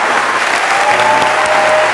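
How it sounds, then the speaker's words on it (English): An audience applauds after a speech by Dr. Cornel West, a loud, dense and unbroken wash of many hands clapping close by, with faint tones sounding beneath it. "clap."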